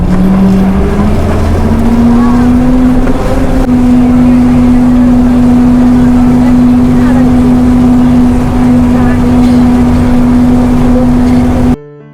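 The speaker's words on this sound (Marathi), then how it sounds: "गाडी पूर्ण थांबून थांबून चालले" An ST state transport bus grinds loudly along the tight turns of the Goregaon ghat road, its engine drone holding a steady pitch after a brief rise, close and continuous until it cuts off at the end.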